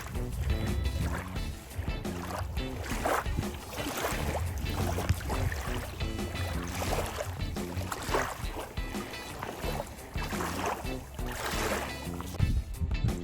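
A boat motor runs steadily over rushing water and wind, a continuous churning drone with splashy bursts throughout.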